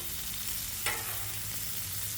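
Ground pork bacon sliders sizzle in a pan, a steady, close frying hiss with one brief pop.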